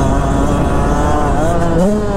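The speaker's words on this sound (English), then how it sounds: "this thing has a surprising amount of low end grunt for a YZ125" A Yamaha YZ125X two-stroke dirt bike revs loud and close during a test ride, the engine holding a buzzing note before the pitch climbs sharply near the end.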